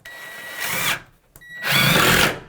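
Power drill driving screws into a custom wood countertop, two loud close bursts of whining motor with a brief pause between them.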